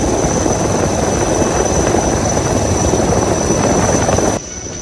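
An Indian Coast Guard rescue helicopter hovers over a flooded rooftop in Gujarat, its rotor and engine a loud, steady, close roar that drops suddenly in level just before the end.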